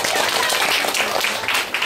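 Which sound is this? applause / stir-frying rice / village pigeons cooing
applause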